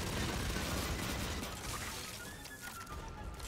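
Gunfire from the video game Aliens: Fireteam Elite, a dense, continuous fusillade of rapid shots and crashing impacts that fades slightly midway, loud and unbroken, with no voices over it.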